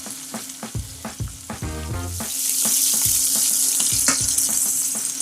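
Pork loin sears in hot oil in a pan, starting with a few handling knocks and clatter before a loud, steady sizzle swells up and holds close by with no talking.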